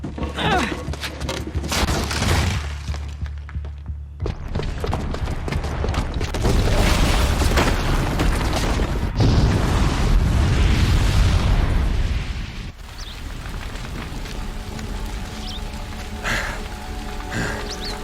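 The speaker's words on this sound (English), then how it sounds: "the booby trap on the bomb downstairs is gonna get set off" A bomb booby trap goes off in the video game Horizon Zero Dawn, giving loud, rumbling explosive blasts with crackling debris that swell and hold for several seconds before easing into lingering rubble and ambient noise.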